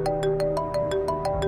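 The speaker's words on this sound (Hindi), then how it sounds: "जुबैदा का फोन है।" A phone ringtone plays as a looping electronic melody of short repeated tones at an even, rapid pulse, clear and fairly close, with no talking over it.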